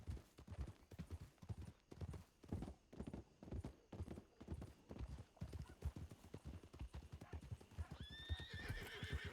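A horse's hooves clip-clop in a steady, even rhythm throughout. Near the end the horse gives a clear, rising neigh over the hoofbeats.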